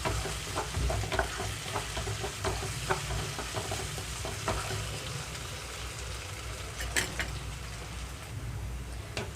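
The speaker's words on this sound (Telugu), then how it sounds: "ఇక్కడ అల్లం వెల్లుల్లి కూడా వేగిపోయిందండి" Ginger garlic paste fries in a pan for a mutton curry with yellow cucumber, a steady sizzle under scattered stirring scrapes and clinks, close up with no talking.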